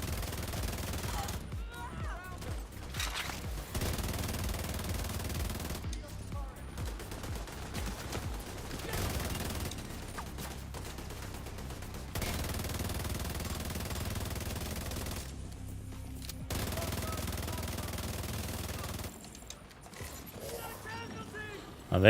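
Gunfire in the video game The Division 2, bursts of rapid automatic shots separated by short gaps, loud and close, alongside mechanical clatter.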